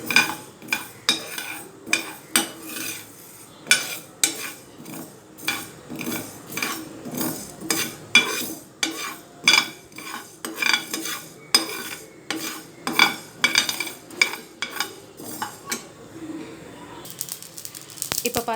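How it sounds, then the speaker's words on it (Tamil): Mustard seeds popping and crackling as they fry in a hot pan, a rapid, irregular series of sharp little pops close by, bursting in clusters over a soft sizzle. "இப்போ பார்த்திங்கன்னா கடுகு நல்லா பொரிய ஆரம்பிச்சிருக்கு"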